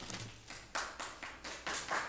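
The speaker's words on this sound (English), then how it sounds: "Please hold your applause." Brief clapping from the public at a city council meeting, a few scattered claps in an uneven rhythm that sound faint and distant in a large room.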